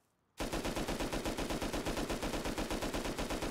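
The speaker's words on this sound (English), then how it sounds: "you can just sit here, and the turret will just go" Automatic turret in a video game firing nonstop at a wall, a rapid, steady stream of loud gunshots that starts abruptly after a brief quiet moment and keeps an even rhythm throughout.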